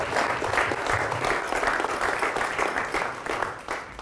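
A crowd at a book launch gives a sustained round of applause for the author's brother Tim, dense clapping holding steady and loud for the whole stretch before easing slightly at the end.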